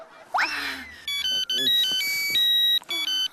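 An electronic phone ringtone chirps in a repeating melodic pattern, close and clear, with a voice speaking briefly at the start.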